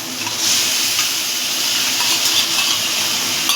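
Spiced yogurt masala hisses and sizzles steadily in a hot frying pan while being stirred, a loud, continuous, close frying sound with no voice over it.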